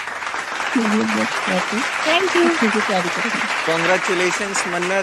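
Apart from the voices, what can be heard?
audience applause for contestants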